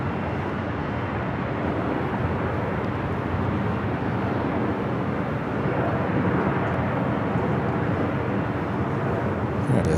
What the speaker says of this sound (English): Let's take a look at the Condor A330 Neo.